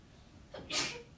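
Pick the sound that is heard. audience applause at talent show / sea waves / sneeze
sneeze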